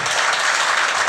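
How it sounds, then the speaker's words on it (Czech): Live audience applause at a Czech showman's stage performance, a steady dense wash of clapping filling the whole moment without a break, no voices standing out. "to ani není moc potlesku"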